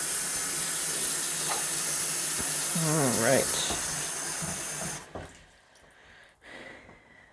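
A sink faucet runs in a steady, hissing stream while fresh fleece is being washed, then cuts off about two thirds of the way through; a person speaks briefly.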